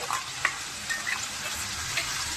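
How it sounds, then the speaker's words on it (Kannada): Masala frying in a pan for a country-style stuffed brinjal curry, a soft steady sizzle broken by light scraping ticks of stirring. "ಮಸಾಲೆ ಹಾಕೊಂಡು ಎಲ್ಲ ಮಸಾಲೆ ನೀಟಾಗಿ ಫ್ರೈ ಆಗಲಿ."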